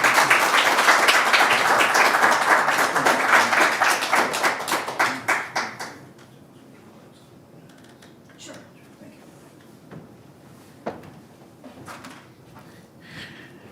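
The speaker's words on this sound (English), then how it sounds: "Let's give him a huge round of applause." Dense audience applause for a poet at a Caffe Lena poetry reading fills the first six seconds, thinning into a few scattered claps before a quiet room with faint stray sounds remains.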